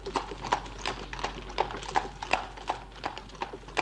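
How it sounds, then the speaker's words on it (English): The hooves of a carriage horse clip-clop in a quick, steady rhythm, the sound close and clear throughout, set as a sound effect in an audiobook. "They took a carriage to cross the city."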